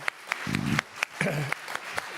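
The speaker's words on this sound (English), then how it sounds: "our panelists have earned their applause." Sparse, scattered clapping from a forum audience applauding a panel of speakers, a few sharp claps spread across a short stretch, fairly faint, with voices murmuring underneath.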